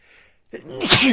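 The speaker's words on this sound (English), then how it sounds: "I'm going to sneeze." A single sharp sneeze bursts out after a brief faint intake, loud and close.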